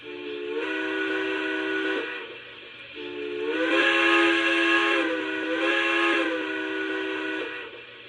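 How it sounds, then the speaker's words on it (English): Three long steam-whistle blasts from an O scale PRR K4s 1361 model locomotive with PS3 sound sound in succession, the middle one loudest, with slight reverberation around each chord. "A little bit of reverb there on the whistle as well."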